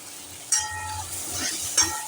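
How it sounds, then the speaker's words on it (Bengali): Pumpkin curry with chili powder frying in a pan over medium-low heat, a soft steady sizzle with two short stirring scrapes, close and fairly quiet. "এবার তরকারিটাকে মিডিয়াম টু লো করে একটু ভাজা ভাজা করে নিতে হবে"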